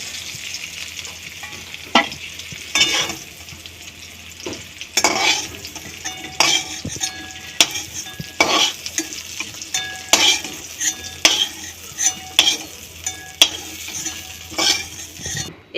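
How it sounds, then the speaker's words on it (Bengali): Cubed potatoes and pointed gourd fry in hot oil in a kadai, a continuous sizzle broken by repeated sharp scrapes and clinks of a spatula stirring against the pan, close up with no talking. "আলু পটলটা একটু ভালো করেই ভেজে নেবেন"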